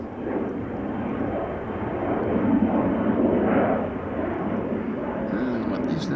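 A KLM Embraer 175 jet takes off from Schiphol, a steady mid-distance engine roar that swells slightly in the middle and then holds, with faint higher hiss toward the end.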